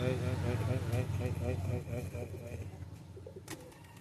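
Domestic pigeons coo in low, soft, repeated calls close by, running steadily under people talking.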